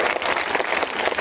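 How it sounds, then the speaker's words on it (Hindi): A crowd at a political gathering in Bihar claps in dense, steady applause to welcome a guest. No talk is heard, and the clapping runs throughout. "इधर जोरदार ताली बजा के स्वागत करो भाई।"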